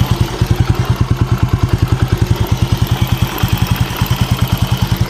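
A Yamaha Vega Force motorcycle engine with valve noise idles close by, a rapid, even clattering pulse that runs loud and steady throughout.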